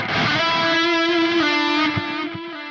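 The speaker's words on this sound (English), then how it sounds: "This is a really cool delay." An electric guitar played through a delay pedal in the Archetype Gojira Neural DSP plugin, with tape-saturation distortion, rings out as loud sustained notes whose wet echoes trail and overlap.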